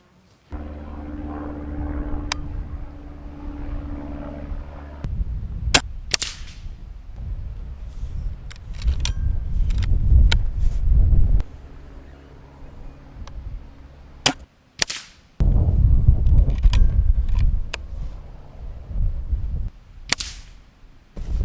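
Five sharp cracks from a Weihrauch HW100KT air rifle fired at a target just under 25 metres away outdoors on a blustery day, each shot a short loud snap separated by gusting wind noise.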